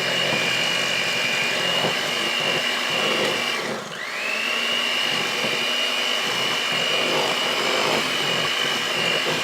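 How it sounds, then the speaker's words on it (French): Electric hand mixer running steadily at speed 2 as it beats yogurt cake batter, a continuous close whir with a bright motor whine and one brief dip midway, no voices. "On met le batteur à vitesse 2."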